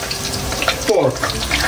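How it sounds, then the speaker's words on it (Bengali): Chicken pieces sizzle in hot oil for chilli chicken in a home kitchen, giving a steady, close frying hiss with a brief clatter of stirring in the middle. "রান্না চলছে চিলি চিকেনের জন্য, যে চিকেনটা ভাজা হয় সেই চিকেনটা ভাজা চলছে"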